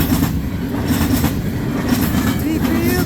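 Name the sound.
CN freight train passing at Ladysmith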